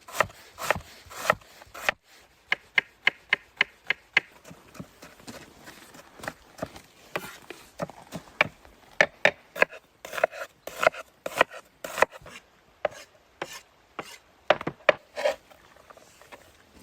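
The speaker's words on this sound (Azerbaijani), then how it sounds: "Soğanımızı doğrayırıq." Onions being chopped with a knife on a board: crisp, close knocks that come in quick runs and scattered single strokes, with short pauses between bursts.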